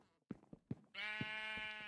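A few dull thumps lead into a single loud, sustained sheep bleat from the Minecraft video game, close and clear, lasting nearly a second with no talking.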